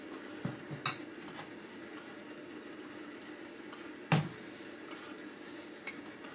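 Henna paste is mixed in a bowl, with a few faint clinks and soft scrapes of a utensil against the dish over a low, steady background.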